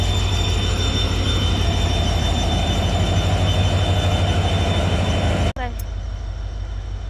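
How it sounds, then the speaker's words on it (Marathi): A train rumbles past close by on the railway, a loud sustained roar of wheels and carriages that cuts off abruptly near the end, leaving quieter background noise. "इतना नजीक आ गया ट्रेन हमारे ये साइड से"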